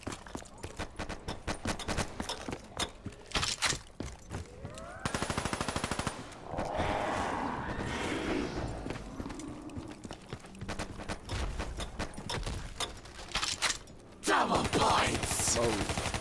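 Rapid automatic gunfire and repeated shots ring out in Call of Duty: Black Ops 3, with bursts of varying length, weapon swaps and a louder blast near the end. The shooting is loud and close and heard alone.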